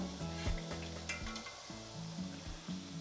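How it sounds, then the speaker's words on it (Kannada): Nippattu rice crackers fry in hot oil, a soft steady sizzle running underneath. Light stirring and faint clinks of a utensil against the pan come and go, and the whole sound stays quiet. "ಒಂದು ಸಲಕ್ಕೆ 3 ಹಾಕಿ ಕರಿಯೋದು"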